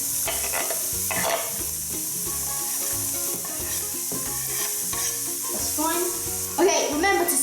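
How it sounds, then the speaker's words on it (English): Onions sauté in hot oil in a pan for pork adobo, a close, continuous sizzle with repeated stirring scrapes and clinks of a utensil, and no voices. "So I'm gonna put my onions now because the oil is warm enough."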